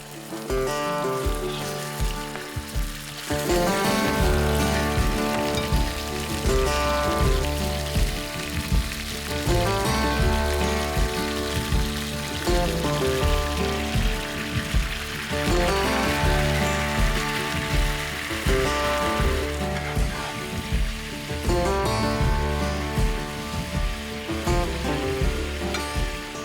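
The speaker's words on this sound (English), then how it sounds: "that'll be the perfect temperature to get a nice, strong, crispy sear into your meat or fish" Snapper or kingfish searing in a hot oiled pan gives a loud, dense, continuous sizzle and crackle that holds steady throughout, with no talking.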